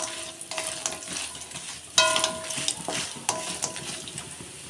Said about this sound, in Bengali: ডালের বড়িটা ভালোভাবে ভেজে নেব।